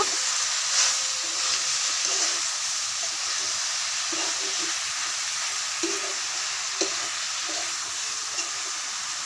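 Thankuni greens and parboiled potatoes are stir-fried in a pan, giving a continuous hissing sizzle with repeated scraping knocks of a spatula at irregular intervals, close and moderately loud with no voices.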